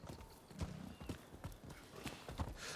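Horse hooves clip-clop at a steady walking rhythm in the Rise of the Ronin video game, faint rhythmic thuds at a low level with no other clear sounds.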